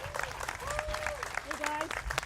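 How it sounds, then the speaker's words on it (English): An outdoor crowd at a kokanee salmon release at Lake Sammamish claps for schoolchildren, the moderate applause mixed with voices and a few high whistle-like tones. "could we give a big round of applause to the kids from Campbell Hill?"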